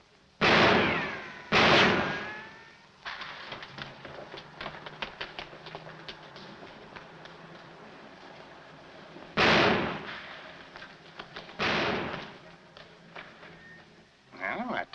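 Sharp gunshots ring out in a 1947 black-and-white comedy film, with two loud cracks near the start and more later, separated by a stretch of quieter clattering noise.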